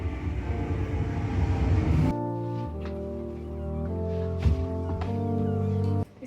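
The inside of a train in Sydney, Australia: a steady rumble of wheels with an electric motor whine that steps up in pitch as the train speeds up, and a short burst of louder noise near the end.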